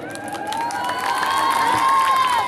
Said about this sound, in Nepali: त्यसको लागि मात्रै ताली बजाउनुहोस् त सबैजनाले